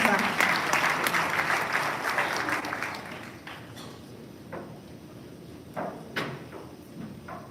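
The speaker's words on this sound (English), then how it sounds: "Let's give him a round of applause as he comes up." Audience applause at the launch of an occupational health and safety strategy and accord signing, as a union representative from FEDUSA comes up. Fairly loud clapping fades after a few seconds into scattered claps and quiet room noise, with some talk.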